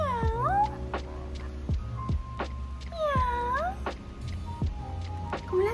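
A voice imitates a cat's meow in a sequence of drawn-out, rising-and-falling mews with short pauses between them, loud and close, over a steady low hum.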